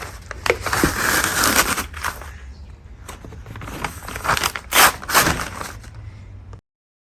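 Excess peel ply being cut and peeled off a resin-soaked laminate during boat work, giving steady close crinkling, scraping and tearing noises for several seconds before stopping abruptly.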